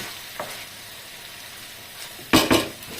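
Eggs fry Taiwan style in a very hot pan, giving a low steady sizzle with a couple of loud spattering bursts and light pan clatter near the end.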